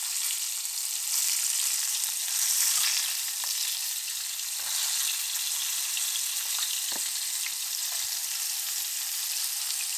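Pieces of fish deep frying in hot oil, a dense, continuous close hiss of bubbling oil with a few faint pops and clicks, steady and without voices.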